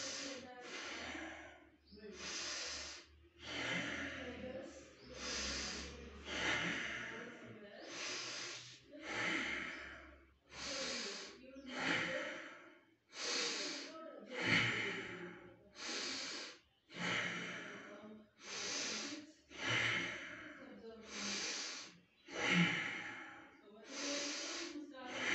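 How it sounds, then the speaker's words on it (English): Slow, deep breathing while lying face down in a prone position, each long inhale and exhale loud and close, repeating in a steady rhythm of about a dozen breath cycles with short pauses between them. "As soon as I lie down in prone posture, it's currently 93, and start deep breathing."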